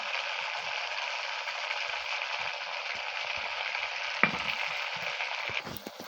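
Bengali jhal pua pitha, spicy fried cakes with green chilies, sizzle in hot oil as a steady bright hiss, close and moderate, with a few soft clicks near the end and no talking.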